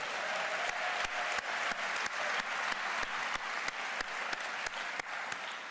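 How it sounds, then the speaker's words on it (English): A large audience claps steadily and continuously through the Atlanta mayor's State of the City address, a dense wash of applause with no speech over it. "Keep on clapping."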